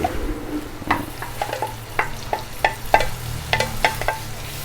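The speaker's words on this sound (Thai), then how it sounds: "นี่ตอนนี้พริกเริ่มเหลืองแล้ว ใส่ตับลงไปเลย" Liver stir-frying with dried chilies in a pan for Thai spicy basil stir-fry, with a constant sizzle punctuated by a regular series of sharp spatula scrapes and clacks against the pan, close and alone.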